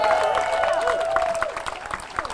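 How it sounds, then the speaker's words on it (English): At a North Carolina General Assembly protest for health care for all, a crowd applauds medical professionals. The clapping is steady and mid-distance, with voices and a rising vocal cry over it that thins toward the end. "Let's give these medical professionals another round of applause."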